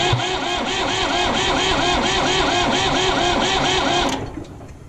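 A 1960 Massey Ferguson 35 diesel tractor engine starts and chugs loudly with a steady rapid knocking rhythm, running for about four seconds before cutting off abruptly and going quiet.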